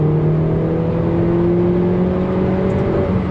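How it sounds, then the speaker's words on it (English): Inside a John Cooper Works Mini Roadster under acceleration, the engine and exhaust give a steady, loud droning note with rising tonal bands, heard continuously from the cabin with no talk over it. "you get a really lovely exhaust note in the car itself"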